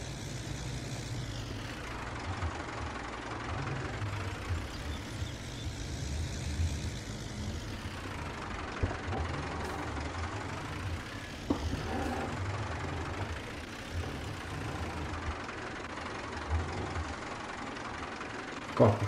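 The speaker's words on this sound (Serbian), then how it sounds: "Kako šljaka je, taj zvuk iz Fergusona, Mare vole." A Ferguson tractor engine in the video game Farming Simulator 22 runs with a continuous low, knocking rumble. The sound stays quiet and steady throughout, with faint talk at times.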